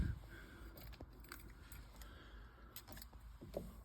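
Car keys jangle and clink near the new ignition of an NB Mazda Miata, a run of small metallic rattles and taps, some louder than others, with no talking.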